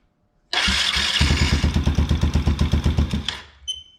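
Can-Am DS90X ATV with a newly replaced starter cranking briefly, then catching and running in a fast, even chug that dies away after a few seconds, close and loud.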